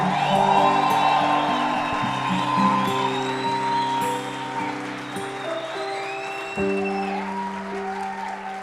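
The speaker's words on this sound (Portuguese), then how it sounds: "dá uma salva de palmas ao Jesus. Mas faz barulho direito para Ele aí." A church congregation claps and cheers for Jesus in a service, sustained applause with whoops and shouts, while music with held organ-like tones plays underneath, loud and filling the room.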